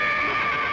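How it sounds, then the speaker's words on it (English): A horse whinnies close by, a steady sustained neigh filling the short moment on a cold day outside a house, with no voices over it. "I thought I heard a horse"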